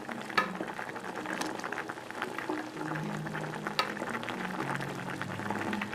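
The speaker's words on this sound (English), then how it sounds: "I'm going to let this boil down until the water level is actually just below the level of the rice" A pot of rice and snails at a steady boil, a continuous close bubbling and simmering hiss with occasional sharper pops and knocks, no talk.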